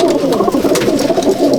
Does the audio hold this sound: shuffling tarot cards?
no